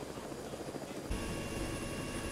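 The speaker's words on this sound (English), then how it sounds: "Get in the helicopter!" Helicopter rotor and engine noise in the Arma video game, a dense steady roar that grows fuller and louder partway through as the aircraft spins up.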